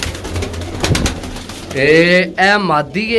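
Close, loud pigeon cooing, with a few throaty warbling coos rising and falling in a pair of golden-coloured pigeons, coming in after someone speaks.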